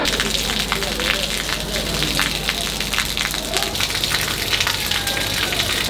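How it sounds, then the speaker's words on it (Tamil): Rain falling steadily in Chennai on the day before the Cyclone Michaung floods, a dense hiss of drops splashing on surfaces with people talking over it. "மழை பெஞ்சிட்டு இருக்காங்க"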